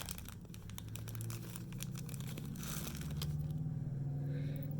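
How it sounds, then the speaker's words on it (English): A plastic bag from a jewelry subscription package being opened by hand, giving close, irregular crinkling and rustling over a low background rumble, with no talking. "let me get out of the plastic bag"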